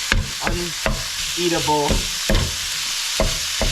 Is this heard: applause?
no